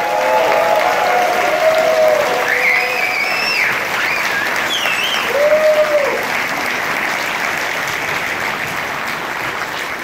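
A full hall audience at a charity magic evening in Berlin applauds loudly and steadily for the whole stretch, dense clapping with a few whistles and cheers rising above it.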